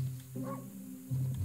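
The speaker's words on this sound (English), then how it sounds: "Bark in your face." Wolf barking in the video game Okami, one short bark heard close over game background music.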